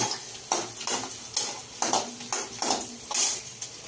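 Green chili and onion being fried in a pan for a Marathi amaranth greens dish, with a steady sizzle broken by repeated scraping stirs about every half second, close and fairly quiet.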